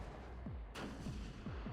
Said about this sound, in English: I can hear more gunshots. A lot of them.